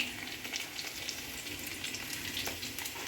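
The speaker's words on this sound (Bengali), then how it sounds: "ভাজা ভাজা হয়ে গেছে" Food sizzles steadily in a hot pan on a home stove, a constant crackling hiss with small pops throughout, close and fairly quiet, with no talking.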